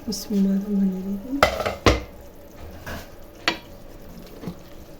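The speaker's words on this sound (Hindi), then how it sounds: "अब हम कुकर को खोल लेंगे।" Metallic clanks of a pressure cooker lid being opened after its steam has been let out, a few sharp knocks and rattles close by after a brief low hum.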